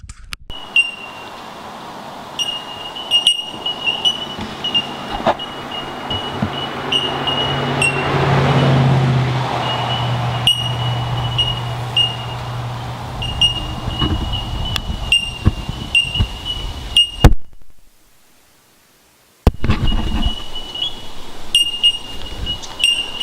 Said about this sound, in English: That's the sound of the bell miner birds